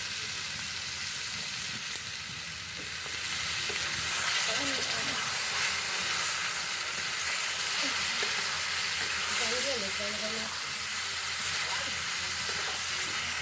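Meat sears in a hot pan with a continuous hiss and sizzle, overlaid by occasional scraping and faint knocks of stirring, close by and fairly even in level.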